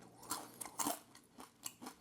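Crunchy oven-baked potato fries, big wedges, being chewed up close, a handful of sharp crisp crunches in an uneven rhythm, quiet and without speech.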